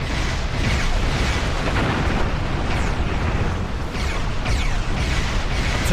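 Starship disruptors firing and exploding in a Star Trek space battle game, a dense, continuous roar of blasts and booming bursts with repeated sharp impacts, loud and close throughout.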